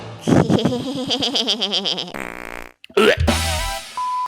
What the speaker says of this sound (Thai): เธออย่ามาตดใส่ฉันนะ